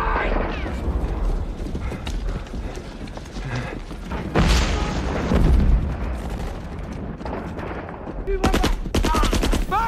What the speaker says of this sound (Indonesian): Kapten Pritchett dihancurkan dan dibombardir oleh meriam Jerman